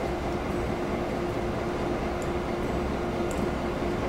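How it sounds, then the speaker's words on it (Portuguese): A freight train runs in the video game Transport Fever, making a steady low rumble with a faint constant hum and a few light ticks, and no voices. "Tá aí o trem que vai levar esse produto da fábrica para Curitiba"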